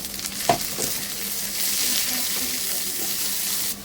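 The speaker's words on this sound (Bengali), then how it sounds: "পেঁয়াজ লাল লাল করে ভাজা হয়ে গেছে" Onions sizzle steadily in hot oil, with a brief clatter of stirring near the start and a constant crackling hiss after.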